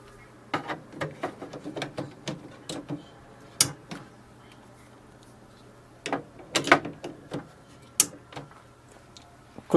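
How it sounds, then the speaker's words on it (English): Plastic ink cartridge access door on an HP OfficeJet 8012 printer being handled and shut, a series of sharp close clicks and taps with a few louder snaps, no talking. "Close the ink cartridge chamber door."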